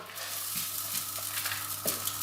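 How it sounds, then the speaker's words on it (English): Rice sizzling and crackling in a hot frying pan, a steady close frying hiss with light stirring scrapes. "just a wee bit of sizzle, so you know it's hot enough"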